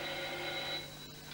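Telephone bell ringing in a 1943 Sherlock Holmes film, a steady buzzing ring held for about a second before cutting off, with faint background hiss and no speech.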